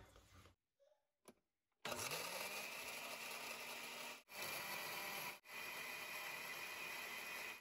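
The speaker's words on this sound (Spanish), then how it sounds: "Y ahora sí lo ponemos a licuar." A kitchen blender whirs up from silence after a few faint clicks, spinning loudly while blending paprika, dried parsley and seasoning for chicken consommé, with two brief cut-outs in the steady motor whine.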